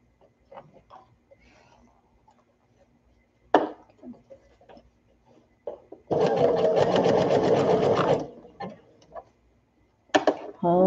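A sewing machine stitches a baby sunsuit in one steady two-second run, loud and close, surrounded by quieter clicks, fabric handling and brief bumps with no talk.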